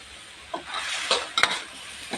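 Pork stir-frying in a pan, a close steady sizzle broken by a few scraping and clanking stirs of the utensil against the pan, with no talking.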